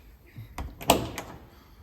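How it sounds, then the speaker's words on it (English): A classic Mini's passenger door being fitted back on during a rebuild after fresh paint, heard as a few close knocks and a firm metallic clunk as it seats, with little else around it. "Put the passenger door back on. That's fitting really nice."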